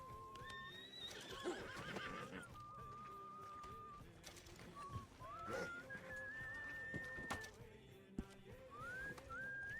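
A horse whinnies and neighs several times with bright, prominent calls over hoof clatter and a shrill whistle, loud and close in an outdoor setting.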